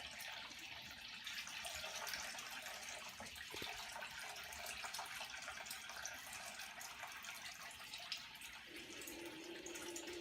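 Water is poured into a Fluval FX6 aquarium canister filter during cleaning, a continuous rushing, splashing flow that stays steady and close for the whole stretch with no talk over it.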